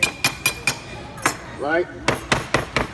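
A knife blade strikes a metal hammer in a quick series of sharp metallic chops, about ten hard clinks in two bursts, with a short spoken word in the gap between them.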